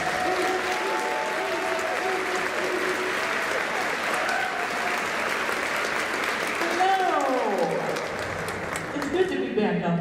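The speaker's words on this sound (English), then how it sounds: "Please help me give a warm welcome and a round of applause to our co-MC for tonight" Warm audience applause at a community band concert, full and steady before tapering off, as a voice begins talking over the fading claps.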